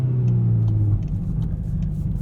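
A 2022 Volkswagen Golf R with a DSG gearbox drives along with a steady engine rumble and road noise, heard from inside the cabin, the engine tone dropping partway through.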